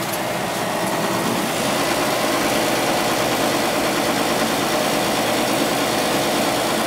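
A small motor on a basement boiler runs steadily, a continuous close engine-like hum with a broad hiss and no pauses, alone without talk.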